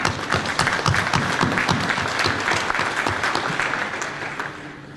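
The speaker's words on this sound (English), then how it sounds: "I would like to give you a round of applause." Audience at a State of Hamilton civic address breaks into a round of applause, dense crisp clapping from many hands, loud and sustained before tapering slightly at the end.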